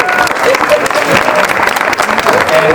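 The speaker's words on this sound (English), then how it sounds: "Let's give these wonderful ladies a round of applause." Warm applause from a gathered crowd at a book launch party, steady close clapping with a voice speaking over it.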